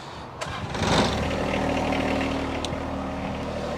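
A John Deere tractor fitted with a factory-installed backhoe cranks and its diesel engine fires up, then settles into a steady, loud idle that holds to the end with no talk.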